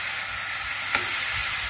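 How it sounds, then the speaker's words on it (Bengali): Red radish frying in a pan with green chilli, giving a steady close sizzle and a single brief scrape of stirring. "একটু নাড়াচাড়া করে নিই"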